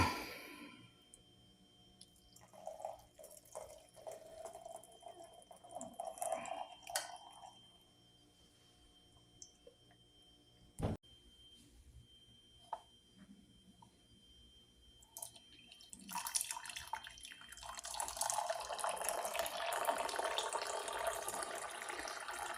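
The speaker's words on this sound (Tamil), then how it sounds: "இந்த ஸ்டேஜில் நம்ம வடிகட்டணும் இப்போ வடிகட்டிகிட்டு இருக்கோம்" Caramel tea poured through a strainer, heard as soft dripping and trickling, then a fuller, louder rush of liquid splashing into a cup near the end, close up and with no voices.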